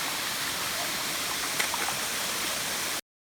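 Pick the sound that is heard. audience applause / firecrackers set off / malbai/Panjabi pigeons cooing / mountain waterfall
mountain waterfall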